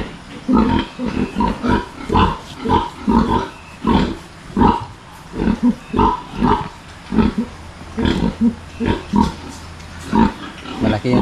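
Piglets on a farm squeal and cry in short repeated bursts, loud and close, with a person speaking intermittently between the cries.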